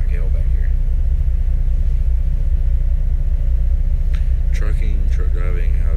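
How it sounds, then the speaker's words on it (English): A very loud truck on the road gives a constant heavy low rumble and rattle of the cab, with someone talking over the engine noise. "it's just an ungodly loud truck,"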